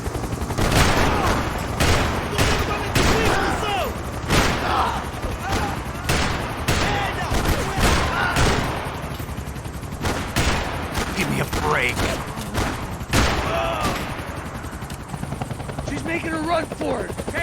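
A shootout in Max Payne 3 brings rapid, loud bursts of gunfire over a constant helicopter rotor roar, with characters shouting throughout.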